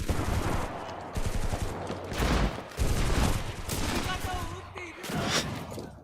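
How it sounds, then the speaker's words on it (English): Video game war battle full of rapid machine-gun bursts and scattered rifle shots, rattling volleys rising and falling in waves over a low rumble, with occasional speech mixed in. "Who is shooting where?"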